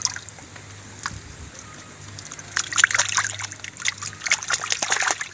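A plant being rinsed in ditch water at the edge of a drainage channel, with quiet trickling at first and then splashing and sloshing that grows busier and louder toward the end.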